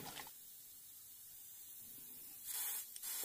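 Liquid spraying from a nozzle on a Yamaha Jog scooter, a faint steady hiss that swells into two louder, brief bursts near the end, with no talking.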